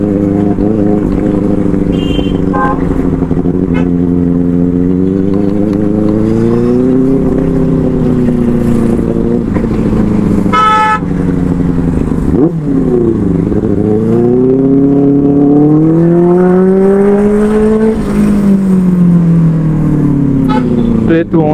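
Inline four-cylinder superbike engine revs loudly and continuously while riding, its pitch rising and falling through gear changes, close and dominant throughout.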